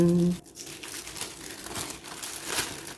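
Gift packaging paper on a Chanel Wallet on Chain being unwrapped, a loud crinkling and crumpling that follows a short voiced sound at the start and then carries on steadily.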